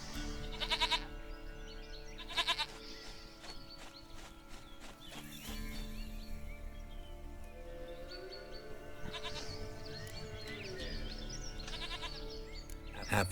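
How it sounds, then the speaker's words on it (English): Goat bleats in The Witcher 3 sound over the game's music and ambient farm noise, several short wavering calls recurring across the span, moderately loud with hoof-like clopping nearby. "Goat of mine, dearest, sweetest goat."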